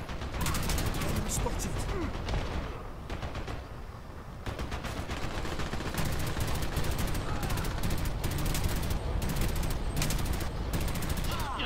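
Machine gun fire from the Archivian in the shooter Dirty Bomb rattles in dense, sustained bursts over continuous battle noise, loud and close almost throughout, with brief lulls around a few seconds in.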